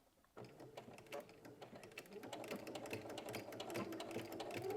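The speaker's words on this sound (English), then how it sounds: "we'll go to the sewing machine. And we are beginning and ending with a back stitch." A sewing machine stitches pajama fabric with a quick, even mechanical rattle that starts abruptly and runs steadily close by, with no talking.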